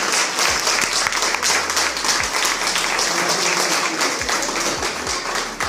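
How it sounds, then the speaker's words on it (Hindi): Audience at a team business meeting in India applauds steadily throughout, a dense, continuous wash of clapping with a few sharper low thumps, no speech heard. "जोरदार तालियां दीजिए"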